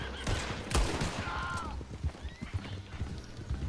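A horse gallops in the Red Dead Redemption 2 video game, rapid hoofbeats thudding close under a brief whinny and scattered gunfire, with a voice speaking now and then.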